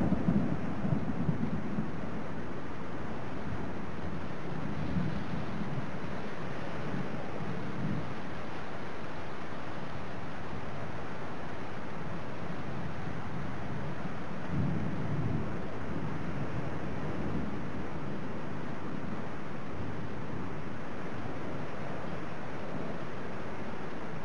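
Heavy monsoon rain pours down in Ahmedabad, a dense steady hiss with repeated low rumbles of thunder rolling through, loud and continuous with no voices.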